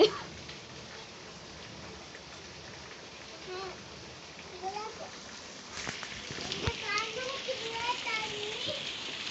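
Heavy rain pours down outside a home where water leaks inside, a constant faint hiss of falling drops with occasional louder splashes, while children's voices and a man's speech are heard over it.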